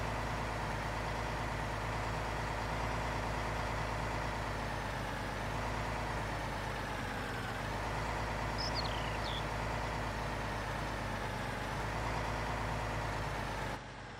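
A Mercedes-Benz 1313 logging truck in Farming Simulator 19 rumbles along at a steady pace, its low diesel drone continuous and fairly quiet before cutting off abruptly at the end; no one speaks.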